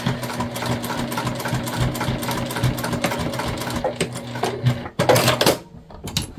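A sewing machine runs steadily as it stitches binding onto a tote bag made from dish drying mats, its motor buzzing in a fast, even rhythm. Toward the end it stops briefly, then gives a short, louder run.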